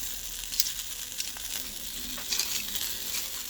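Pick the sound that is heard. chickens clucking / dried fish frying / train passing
dried fish frying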